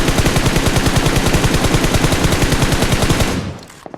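Rapid automatic gunfire in a battle royale video game hammers out steady, loud bursts for over three seconds, then cuts off into a brief fading tail.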